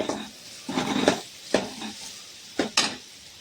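Coconut pieces frying in a pan for a chicken sukka, close stirring scrapes and sizzling bursts in a few uneven strokes, loud against a quiet background, no talking.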